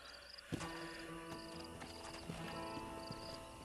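Horse hooves clip-clop in the Red Dead Redemption video game, a light, irregular trot of thuds over sustained tonal game ambience.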